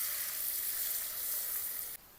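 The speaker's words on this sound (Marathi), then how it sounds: "गरम तेल टाकायचं" Hot oil poured over a spiced biryani paste of ginger paste, salt, turmeric, yogurt and fried onion, giving a steady close hiss of sizzling that cuts off sharply near the end.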